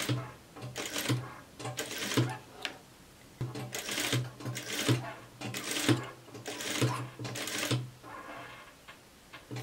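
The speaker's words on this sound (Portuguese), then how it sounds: "eu vou já costuro aqui embaixo, bem na beirinha, pra ficar mais firme" A sewing machine stitches fabric close to the edge, running in several quick bursts of rapid mechanical whirring separated by short pauses, close and clear with no talk.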